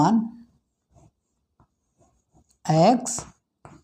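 Faint, short writing strokes on a board or paper during a Class 10 maths lesson tick softly in the pauses, with a teacher's voice speaking before and after.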